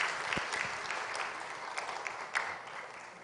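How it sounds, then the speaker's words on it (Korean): A church congregation applauds a newly introduced professor during a Methodist worship service: a moderately distant, steady patter of many hands clapping, with a few sharper individual claps standing out as it gradually tapers. "크게 박수해 주시길 바랍니다"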